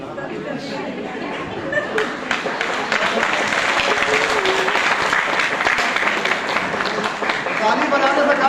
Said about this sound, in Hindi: ताली बजाने से काम नहीं चलेगा, करना पड़ेगा।